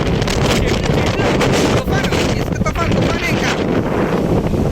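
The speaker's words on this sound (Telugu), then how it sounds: "మామూలు తుఫాను కాదు అసలు భయంకరంగా ఉంది ఇవాళ అయితే" Strong storm wind roars continuously across the microphone during a cycle ride, a loud, steady buffeting rush with gusts and a voice speaking faintly underneath.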